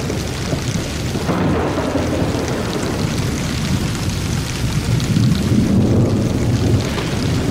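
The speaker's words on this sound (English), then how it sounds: "it's pouring down rain." Heavy rain pours down steadily with deep, continuous rumbling of thunder rolling underneath, loud and close throughout.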